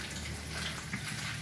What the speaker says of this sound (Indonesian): Ini kan simulasi air akan turun ke situ jika terjadi hujan.